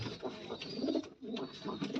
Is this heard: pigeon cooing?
yes